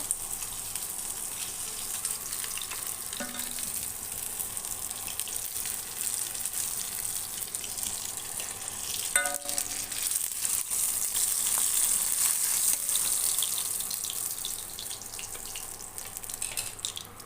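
Fish sizzling in a hot pan for a home-made fish curry, a steady hissing fry that carries on with occasional clinks of a utensil and a gentle swell in intensity toward the middle.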